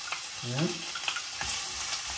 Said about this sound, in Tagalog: tapos ito igigisa natin dito sa smoked meat